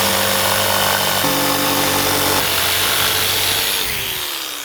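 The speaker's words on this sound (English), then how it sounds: "we're lightly scoring the paint, and then we're cutting a little more exact" A power saw scores the paint on a painted cabinet panel, then makes a more exact cut, a steady loud buzzing rasp that shifts pitch twice before tapering off near the end.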